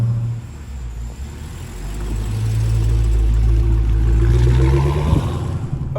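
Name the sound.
Dodge Hellcat engine cold start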